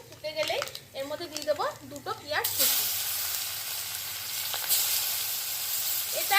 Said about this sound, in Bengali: এবার এই কড়ার তেলের মধ্যেই দিয়ে দেবো কালো জিরে ফোড়ন